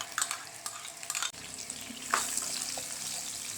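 Ginger-garlic masala frying in a pan for a curry of bitter gourd in yogurt, with soft continuous sizzling and a few clinks and scrapes of stirring, close by and without talk.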